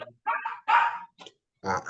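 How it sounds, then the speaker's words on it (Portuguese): A dog barks repeatedly nearby in a home during a spoken lesson, giving several loud, uneven yips and barks separated by short pauses. "meu cachorro tá latindo aqui"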